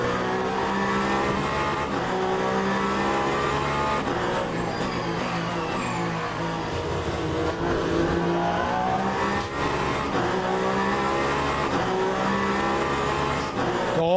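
Race car engine in the sim racing game Le Mans Ultimate, a steady loud drone with rising and falling pitch through gear changes, continuous for the whole stretch with no talk.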